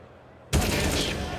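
An AK-47 and a Desert Eagle fire in a professional Counter-Strike: Global Offensive match on Nuke: after a quiet moment, a sudden sharp report bursts in and rolls into a dense, sustained rattle of gunfire.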